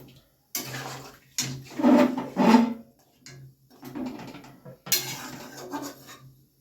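Chili and coriander paste water is poured into a pot of simmering chicken for a Bengali coriander chicken dish, with bursts of splashing, pot clatter and utensil scraping separated by short pauses, close and moderately loud.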